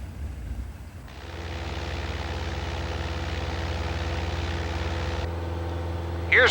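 A Cessna 172 engine drones steadily at full power during a climb, a constant propeller-engine hum heard from inside the cabin with no speech.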